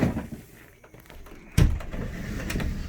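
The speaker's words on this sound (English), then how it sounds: "I'll go down and open the door." A Sprinter van door is opened: a soft shuffle and faint clicks, then a sharp latch clunk midway, followed by a low rumbling slide as the door moves.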